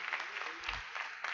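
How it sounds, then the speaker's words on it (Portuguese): A church congregation applauds with steady, dense clapping, moderately close and filling the brief moment, with a voice speaking over it. "Aplaudo o Senhor pela vida do pastor Renan Veiga"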